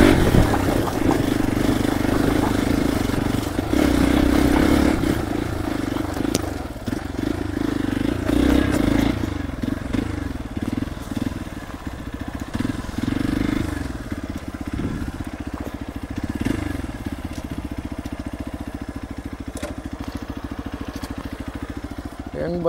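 Hero Xpulse Rally Pro motorcycle fitted with an Akrapovic exhaust revs and runs close by, its engine note rising and falling steadily for over twenty seconds with some clatter, while voices talk over it.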